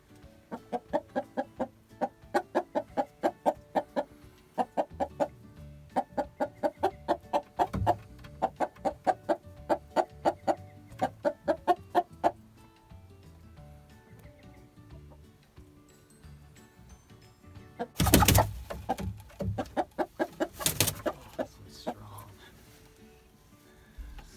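Chickens clucking in rhythmic bursts while being caught by hand for wing clipping, repeated cluck trains up close, with a couple of loud flapping or scuffling bursts later and some talk nearby.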